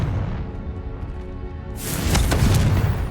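A Confringo fire spell cast in the Hogwarts Legacy video game erupts midway through a low, rumbling ambience as a loud, close, broadband blast, then keeps crackling and roaring to the end.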